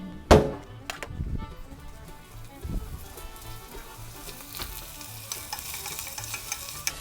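Onions for Texas chili char in a hot pan with a steady, soft sizzle. Occasional thunks and scrapes come from stirring, starting with one sharp knock.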